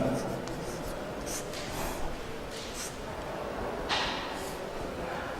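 A pen scratches across paper while a maths lesson on circles and triangles is written out, a continuous near scribble with a few sharper strokes, under a teacher's voice.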